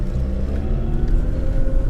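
A Toyota Tercel wagon with a solid rear axle driving off-road gives a steady, loud engine drone as it builds revs, with rumbling low-end noise throughout and no voices.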